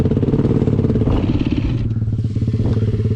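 A motorcycle engine runs steadily and loud, a dense continuous rumble with a slight rise in pitch midway, no voices present.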